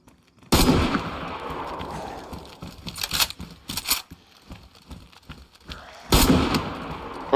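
Bursts of gunfire in the video game DayZ crack out in sharp volleys, with a long loud burst at the start and another near the end, separated by scattered shots and clatter.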